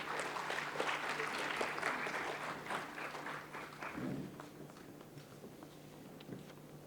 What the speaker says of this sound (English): Ladies and gentlemen, let's all clap together